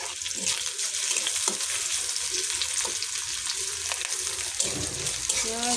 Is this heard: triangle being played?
no